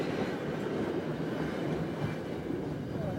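Steady rumbling interior noise of a Japanese bullet train in motion, a continuous dense roar with a faint rhythmic rattle, close and unbroken, with no voices.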